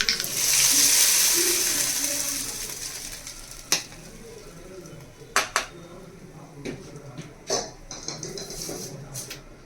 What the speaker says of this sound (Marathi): आपण आता ही फोडणी ऍड करणार आहोत.